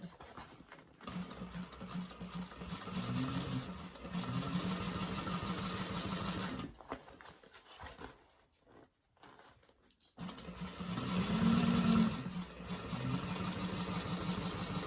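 A sewing machine stitching a bag, running in steady whirring bursts close by, stopping briefly in the middle before starting again, with no talk.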